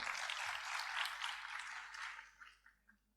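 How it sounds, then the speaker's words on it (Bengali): An audience at a seminar applauds a speaker, a dense burst of steady clapping that rings out for a couple of seconds and then thins to a few scattered claps. "তার জন্য একটা বড় হাততালি থাকা"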